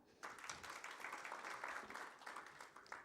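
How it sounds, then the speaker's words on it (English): An audience at a website launch event claps in a brief, moderate round of applause, steady dense patter from a crowd, fairly faint and without talk over it. "Let's give him a clap."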